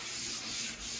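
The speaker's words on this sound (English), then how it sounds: "we are sanding everything down just to make it a little bit more smooth" Sandpaper rubs back and forth over a varnished wooden bookshelf between coats, a soft close hiss that swells and dips with each stroke.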